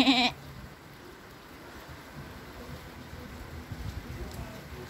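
A single loud goat bleat at the very start on a farm in Ontario, then a quiet outdoor background with a faint low rumble.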